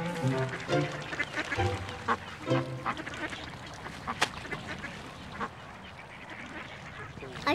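Ducks quack loudly and close by, several rapid nasal calls overlapping at first, then scattered honks and splashy rustling as the flock settles.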